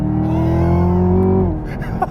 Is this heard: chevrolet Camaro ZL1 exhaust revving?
yes